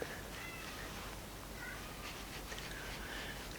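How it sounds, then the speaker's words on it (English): A cat meows outdoors, faint and distant, its few thin cries drifting through a steady background hiss. "my cat is out there whinging for whatever reason."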